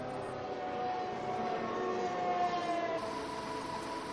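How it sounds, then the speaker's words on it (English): An F1 car's engine revved to the limit in a racing video game, a sustained high, whining tone that holds steady and strong, with no voices. "he's maxing the revs out on his car just now"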